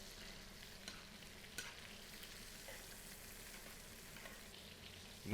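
Picanha steaks frying in a pan while being basted with garlic and fat, a steady soft sizzle with occasional spoon scrapes and splashes, fairly quiet and close with no talking.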